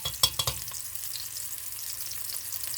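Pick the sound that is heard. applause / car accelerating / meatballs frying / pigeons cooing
meatballs frying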